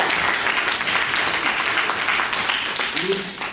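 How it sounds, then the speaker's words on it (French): Lively applause from the audience at a book dedication ceremony, a thick, sustained crowd clapping with voices murmuring underneath, steady and fairly loud throughout. "Et je peux vous les donner de vivants applaudissements"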